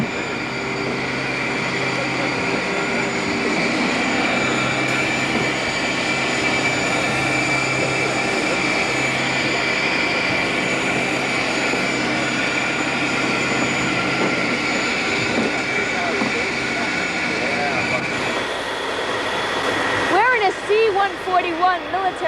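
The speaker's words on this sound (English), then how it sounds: "C-141 military transport plane. Not meant for passengers, it's meant for cargo." Loud, steady engine drone fills the cargo cabin of a C-141 military transport plane in flight. The roar is broad and unbroken throughout, with slight shifts near the end.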